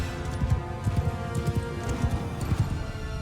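Horse hooves clip-clopping in the video game Mount & Blade II Bannerlord, a quick uneven rhythm of hoof strikes over a low rumble, close and steady across the clip.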